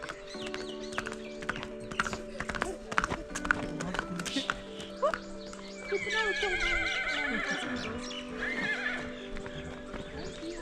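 A horse at a riding ground near a lake in Jammu whinnies loudly in a long, wavering neigh, with hooves clip-clopping and scattered taps beforehand and a steady tone humming in the background.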